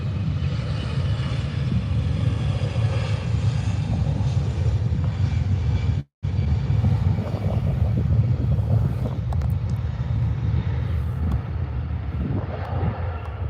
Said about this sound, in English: See how quick the A320 gets up.